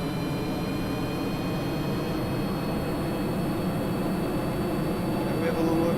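Rocket engine in Kerbal Space Program throttled up, a steady broadband roar with a faint whine running unbroken and fairly loud throughout.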